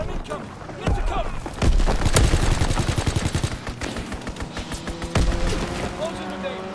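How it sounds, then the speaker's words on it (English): Strafing run in Call of Duty WW2, with bursts of machine-gun fire and heavy impacts, loud and chaotic, rising in intensity, while announcer voices speak over the battle. "Enemy strafing run incoming."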